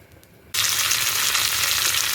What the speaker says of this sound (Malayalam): എണ്ണയിൽ കടുക്, വറ്റൽമുളക്, കറിവേപ്പില, ഒരു 2 മണി ഉലുവ